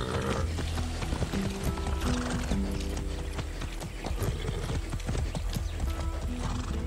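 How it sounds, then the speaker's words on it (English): A horse gallops with rapid, steady hoofbeats and lets out whinnies in the Far Cry 6 video game, the loud clip-clop running continuously over a dense, busy game soundscape. "Come on. That's a good horse."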